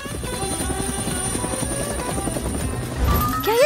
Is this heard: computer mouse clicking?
no